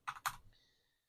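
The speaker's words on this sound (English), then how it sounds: "typing in data" Two quick bursts of computer keyboard clicks close up as data is typed into spreadsheet cells, followed by a faint fading tone, brief and otherwise quiet.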